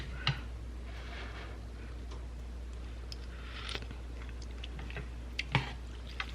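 Noodles being chewed during a taste test, heard as soft, close, wet mouth clicks and squishes spaced irregularly over a steady low hum.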